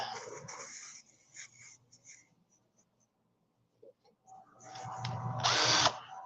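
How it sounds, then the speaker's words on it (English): A cordless drill whirs in short bursts, with quiet gaps between them, then revs up loudly for a final sustained run. "I think I have a drill down here. Let's see if the battery's working."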